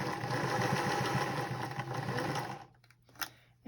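A sewing machine with a quarter-inch foot runs a seam along quilt binding, a quick close mechanical whir for a couple of seconds before stopping, followed by faint handling clicks.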